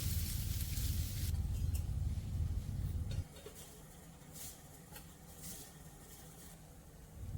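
Spices crackle and sizzle loudly in hot oil as a tempering for a carrot and bean stir-fry in a home kitchen, a dense hiss that drops sharply midway to a quieter, steady frying murmur.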